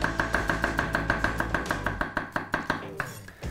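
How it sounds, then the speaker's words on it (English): Rapid, steady knife chops on a cutting board as garlic cloves are chopped finely, close and crisp, pausing briefly before a few final chops, with faint music underneath. "I have 3 cloves of garlic. I'm just chopping them finely."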